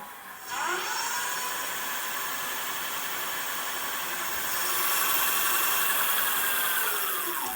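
A 1500-watt electric fat bike hub motor spinning with the wheel off the ground at 72 km/h, a steady high whine and whirr that starts abruptly and holds level, growing slightly louder and higher toward the end.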